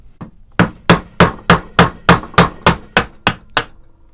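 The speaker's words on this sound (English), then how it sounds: "I want to tap this with a chisel" A hammer strikes a chisel held in a Dremel Multi-Vice eleven times, sharp close metallic taps at a steady, even rhythm with a fainter tap just before them, each one ringing briefly.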